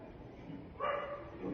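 Dogs barking at an ashram gathering in Rishikesh, India, a muffled bark bursting out midway and another at the end, over low room noise.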